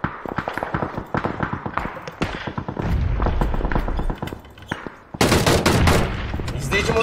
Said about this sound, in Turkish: Sol tepe sıkıyor abi.